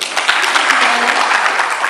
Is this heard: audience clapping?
yes